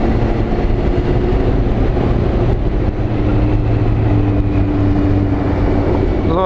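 A new-model McLaren sports car sits close by, its engine giving a loud, steady, deep rumble throughout with a faint rising tone near the end.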